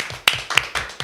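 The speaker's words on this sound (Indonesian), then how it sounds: "Tepuk tangan dulu dong." A small group claps at the opening of an Indonesian podcast, giving about four short, sharp, evenly spaced claps that are close and fairly loud with no talking over them.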